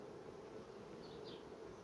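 Honeybees on a hive frame react as a hive chisel comes near, giving a faint, steady droning buzz that hangs low and even throughout.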